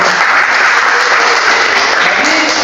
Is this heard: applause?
yes